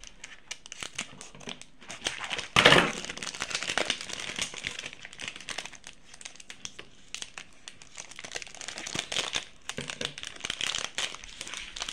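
Plastic wrapper of a Feastables chocolate bar is crinkled and torn open up close, with a sharp rip burst followed by continued rustling and crackling handling.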